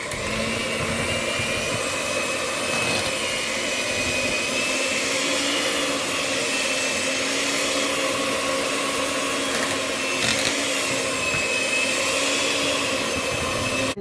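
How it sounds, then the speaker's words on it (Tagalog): Electric hand mixer mashing boiled potatoes in a bowl, a steady loud whirring motor drone with a constant tone that runs unbroken throughout, no voices. "Mix it with the mixer."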